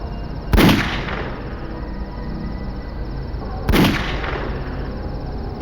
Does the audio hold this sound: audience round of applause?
no